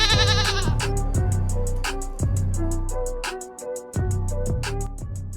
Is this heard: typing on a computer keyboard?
no